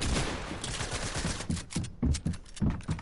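Rapid gunfire in the Fortnite video game, a dense stream of shots that breaks into distinct, punchy bursts toward the end, loud and close with no voices.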